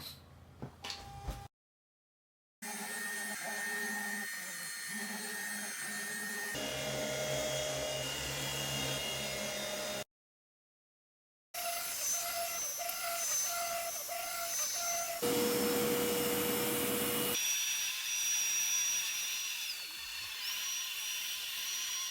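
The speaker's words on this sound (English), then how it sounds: "Time to clean my floor using my Dreame X50 Ultra Complete Robot Vacuum." A Dreame X50 Ultra Complete robot vacuum hums and whirs steadily while cleaning a floor at home, its motor tone shifting between separate passages broken by short silences.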